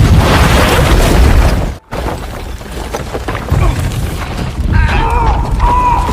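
A booby-trapped mine detonates inside an abandoned German barracks in the war film 1917: loud, dense blast noise fills the clip, breaks off in a sudden gap, then continues as rumbling debris and crashing, with a ringing tone near the end.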